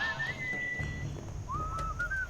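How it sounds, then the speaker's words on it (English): Whistling in the video game Sam & Max Beyond Space & Time: two short melodic whistled phrases, fairly faint, over a low rhythmic music bed, with a brief pause between them. "What is that enchanting whistling sound?"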